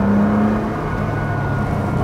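A BMW M2 engine accelerates in a steady, loud, continuous drone, with a rising tone early on and a constant hum throughout, heard from inside the car.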